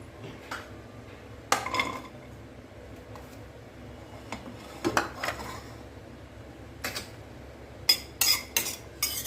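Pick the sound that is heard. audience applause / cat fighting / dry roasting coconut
dry roasting coconut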